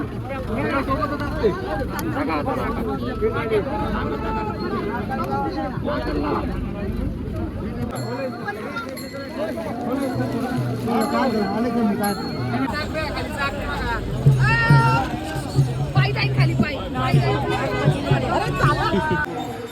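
Dense crowd chatter and overlapping voices of many people gathered beside the flooded Indrayani river, a continuous loud hubbub with nearby shouting and talk throughout.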